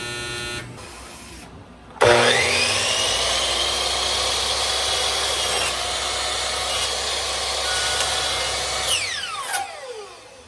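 A power saw cutting wood trim for a miter. It spins up sharply, whines loudly and steadily for several seconds, then winds down, close by.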